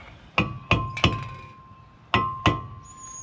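Five sharp metallic taps as a wheel stud is tapped into a race car's brake rotor, struck in an uneven pattern with short ringing tails and a faint tone lingering between hits.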